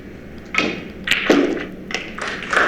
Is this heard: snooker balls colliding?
yes